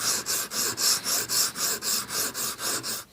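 A knife blade rasped across a diamond grit sharpening stone in steady, even back-and-forth strokes, about a dozen rhythmic passes heard up close and alone.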